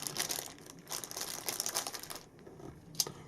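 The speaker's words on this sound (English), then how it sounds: "take it out the plastic bag" Plastic bag crinkling and rustling in bursts as a pocket hand warmer is pulled out, close by, with a brief pause and a final crackle.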